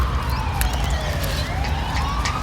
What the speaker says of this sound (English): Oh, that one's an ambulance.